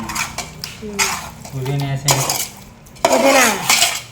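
A metal spoon scrapes and clanks against a pot while chicken masala is mixed for biryani, several close bursts of stirring clatter with a voice speaking briefly between them.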